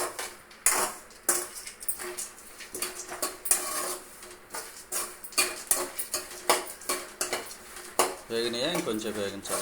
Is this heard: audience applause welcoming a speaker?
no